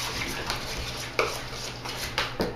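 Mac and cheese ingredients with Tabasco stirred in a bowl, a utensil scraping and clinking against the sides in a steady rhythm with a few sharper knocks, close by and without talking.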